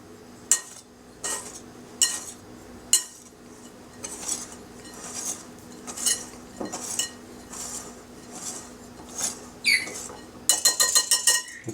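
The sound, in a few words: whisking flour, baking powder and sugar in a bowl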